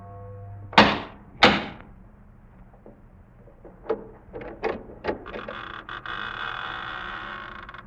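Radio drama effect at a massive oaken door: two heavy, booming knocks, then a run of creaks, clunks and rattling latch noises as the door works open, ending in a long low groan.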